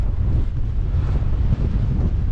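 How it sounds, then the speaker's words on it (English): Strong, cold wind on the Pen y Fan Horseshoe mountain path near Cribyn buffets the microphone in a steady, loud low roar that continues without a break. "it's bloody cold and windy"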